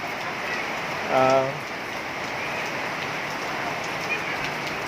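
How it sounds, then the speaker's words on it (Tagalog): Steady rain mixed with hail patters on a surface throughout in Tondo, with a brief burst of a stacked tonal sound near the start rising above the downpour. "Pawala ng ulan kay medyo lumiwanag na doon banda sa ano"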